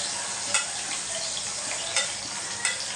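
Green masala paste dropped into a fish gravy with tomatoes in a pan, making a loud, steady hissing sizzle near at hand, with a few brief scrapes or clinks of stirring.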